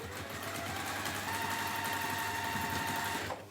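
A sewing machine running steady chain stitches, a continuous even mechanical whir with rapid needle rhythm and a faint tonal hum, stopping right at the end.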